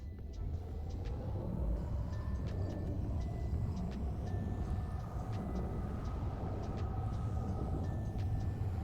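A train vehicle runs along tracks in a Scrap Mechanic world, making a steady low rumble with faint rhythmic clicks and a few brief high tones.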